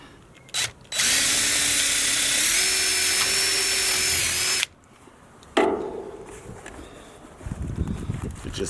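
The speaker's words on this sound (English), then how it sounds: "I like to pre-drill it" A power drill pre-drills holes while flashing a window on a silo and shipping container house. It whines steadily and loudly for about four seconds, then gives a second shorter burst with clattering handling noise after it.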